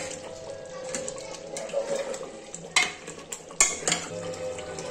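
Mutton being roasted and stirred in a pot in a home kitchen, with a soft frying hiss and a few sharp scrapes and clinks of a spoon against metal, no voices.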